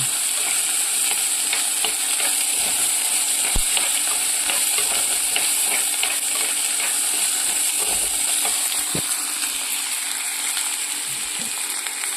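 Onions, curry leaves and green chillies sautéing in a pan for Kerala ulli theyal, a steady close sizzle and hiss of frying with occasional sharp knocks of a spoon against the pan.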